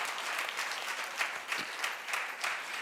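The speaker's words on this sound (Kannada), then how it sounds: "ಎಲ್ಲ ಕೈ ಚಪ್ಪಾಳೆ ತಟ್ಟಿ." A church congregation claps together in a steady, dense burst of applause that fills the room evenly for a few seconds, with no voices standing out.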